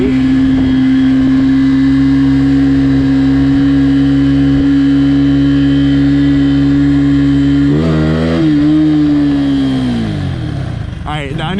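A motorcycle engine drones steadily and loudly while the bike is ridden through a campus, with a rise in revs near the end and the pitch sliding down as it slows.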